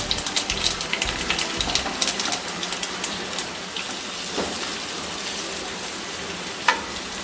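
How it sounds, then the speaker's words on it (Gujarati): Multigrain muthiya dumplings frying in a light oil tempering with curry leaves and sesame seeds, a steady close crackling sizzle with occasional sharper pops, no talking. "આપણો મૂઠિયાનો વઘાર એકદમ સરસ થઈ ગયો છે"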